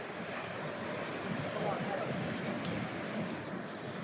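Steady ocean surf and wind roar continuously across the seashore, a dense wash of breaking waves with faint voices mixed underneath.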